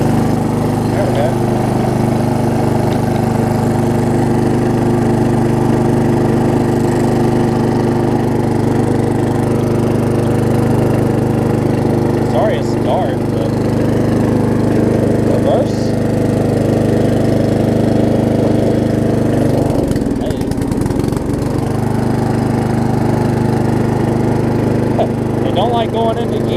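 A Briggs 12hp flathead engine on an MTD Yard Machines riding mower with a fuel leak drones loud and steady up close, with a short rough stumble partway through before settling back to its even hum.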